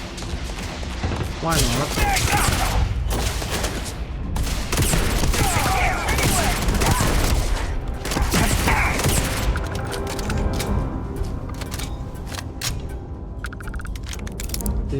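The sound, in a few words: Magpulse gun firing in the video game Starfield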